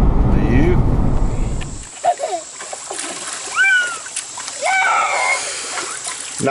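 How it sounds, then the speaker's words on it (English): Children splashing in water outdoors, with a burst of loud splashing and sloshing at the start, then quieter splashes with children's voices and bird-like chirps over it. "No, don't splash each other."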